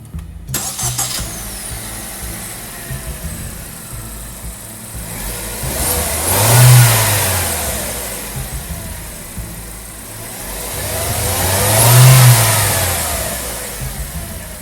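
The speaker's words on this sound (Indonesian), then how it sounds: "Engine start," A DFSK Glory i-Auto with a 1500cc turbo engine cranks and fires, then settles to a steady idle and swells through two separate revs, each rising and falling away, heard close and loud with no talking.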